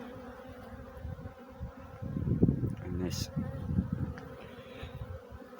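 A swarm of honey bees drones in a steady low buzz that swells louder midway, with someone talking briefly over it outdoors.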